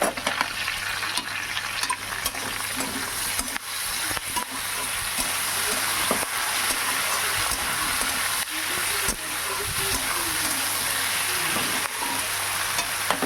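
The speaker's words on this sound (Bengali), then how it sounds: "এবারে আমি বেগুনগুলো দিয়ে দেব দিয়ে আবারও নাড়াছাড়া করে নেবো" Eggplant pieces fry with taro and potato in a pan, a constant close sizzle broken by repeated scrapes and clatters as the vegetables are stirred.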